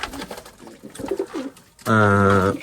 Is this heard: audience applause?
no